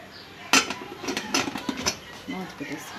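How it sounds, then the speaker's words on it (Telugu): A sharp metallic clank of a lid settling onto a cooker, followed by lighter clinks and rattles of kitchenware. "కుక్కర్ పొయ్యి మీద పెట్టుకోవాలి. మూత పెట్టేసుకుందాం."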